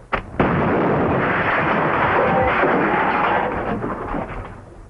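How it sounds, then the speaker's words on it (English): A gunfire sound effect from a 1940s radio comedy bursts out loudly in one sharp crack followed by a rolling, rumbling roar that fades away, with no voices over it. "What's all the shooting for?"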